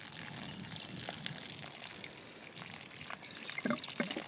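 Water gurgling and sloshing through an exterior bell siphon as it burps back up, faint trickling and bubbling close by, with a few louder gulps near the end and no talk.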